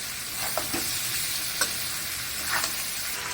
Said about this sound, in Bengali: আলুর সাথে পেঁয়াজটা খুব ভালো করে ভাজা হয়ে গেছে।